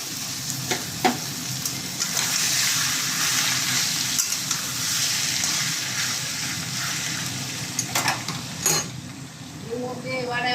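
Boiled taro stolons frying in a pan with spices, a steady loud sizzle with stirring scrapes and a few sharp clinks of a utensil against the pan, ending with light tapping.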